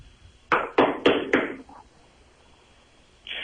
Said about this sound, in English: Knock again. Pound if you must.